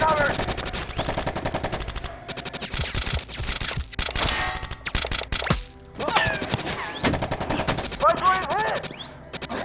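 Heavy video game gunfire from an action shooter: loud, rapid automatic bursts and sharp cracks rattling nonstop, with brief gaps, overlapping shouted voices and game effects throughout.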